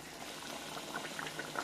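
Butter chilli chicken gravy with soy sauce bubbles in a pan on the stove, a steady close simmer of soft pops and gurgles without any talk.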